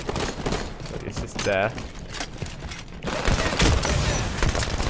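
Rapid SMG fire from a Halo-based video game mod rattles in loud, dense bursts over game noise, and a voice speaks briefly.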